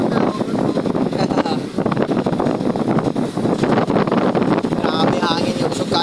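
A strong storm wind roars continuously over a boat at sea during a typhoon, buffeting the microphone loudly and without a break, while someone speaks over it.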